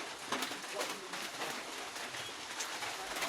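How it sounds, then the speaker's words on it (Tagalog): Soft pigeon cooing repeats at a steady pace against a hissy outdoor background after rain, with no talking, as the pigeons are fed. "Pakain po tayo ng ating mga kalapati."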